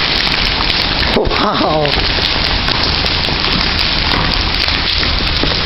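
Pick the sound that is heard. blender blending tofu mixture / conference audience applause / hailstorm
hailstorm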